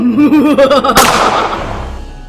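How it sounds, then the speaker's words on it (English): A single sharp video game gunshot cracks out after a moment of voiced sound, then its echo decays over the following second and a half. "We heard a gunshot."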